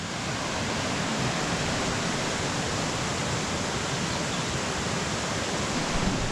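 Steady broadband rush of creek water flowing at a search site, a continuous even wash filling the whole clip with no talk.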